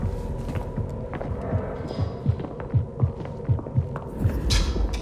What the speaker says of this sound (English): I like that when you have Sense the Unseen on, you can also hear their heartbeats.